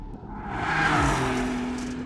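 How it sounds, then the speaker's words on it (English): A Maserati GranTurismo Trofeo with a twin-turbo Nettuno V6 drives at speed on a race track, its engine note swelling as it approaches and passes, then fading slightly, heard alone over about two seconds. "that Nettuno engine in fact was represented on track here by another Maserati, the GranTurismo Trofeo"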